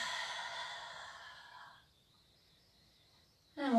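A long, audible breath out through the mouth during a seated yoga twist, soft and airy, fading away over about two seconds, followed by quiet and then a brief sound at the end.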